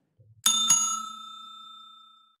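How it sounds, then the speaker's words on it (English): A tabletop hotel bellhop bell is struck twice in quick succession, each bright metallic ding ringing out clearly and decaying slowly into a long fading tone, with no talk over it. "Well, that was the double bell."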